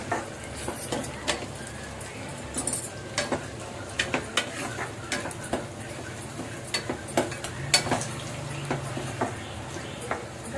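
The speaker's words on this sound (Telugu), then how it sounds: "చూసారా ఫ్రెండ్స్, ఎల్లుల్లిపాయలు లైట్గా వేయించాను" Garlic cloves being lightly fried in a pan, a soft sizzle under frequent clinks and scrapes of a utensil stirring against the pan, close, with a faint voice at times.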